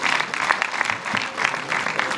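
An audience claps together in sustained applause at an emcee-hosted celebration event, a dense, steady patter of many hands that stays fairly loud and even throughout.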